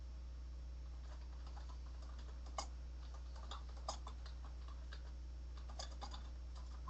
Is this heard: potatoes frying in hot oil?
no